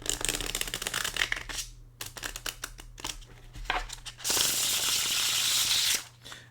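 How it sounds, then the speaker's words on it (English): Plastic Rider tarot cards are riffle shuffled with a fluttering, rapid clicking, then a crisp bridge-like rush of card sounds near the end; close up, no voices. "I'll try another riffle shuffle"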